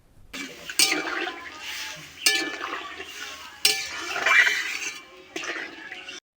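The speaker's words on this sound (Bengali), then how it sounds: "দিয়ে পরিমাণ মতন জল ঢেলে দিতে হবে" Water poured into a pot of lentil dumplings (bori), potatoes and drumstick stalks, a splashing, gurgling pour in several bursts with clinks of utensils, close and fairly loud, with no talk.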